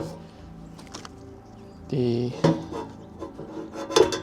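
Baked-on grease is scrubbed off an air fryer part, heard as a close rubbing scour that grows louder partway through with a few knocks and scrapes against the piece.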